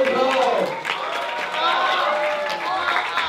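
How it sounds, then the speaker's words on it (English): Applause and cheering rise from an audience at a school Mr. KIS pageant, a busy crowd sound mixed with voices, loud and continuous across the short stretch. "Audience, please give a big round of applause to your Mr. KIS."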